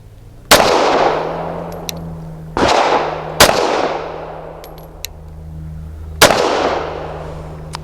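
Four loud pistol shots from a Tisas Night Stalker 1911, each a sharp crack with a decaying outdoor echo, spaced irregularly about one to three seconds apart, with no talk.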